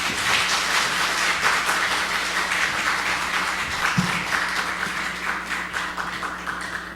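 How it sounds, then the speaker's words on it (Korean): A church congregation claps together in welcome for a pastor at an afternoon service, a steady wash of applause that gradually thins and softens, with a low hum underneath. "목사님 나오실 때 우리 박수로 환영하겠습니다."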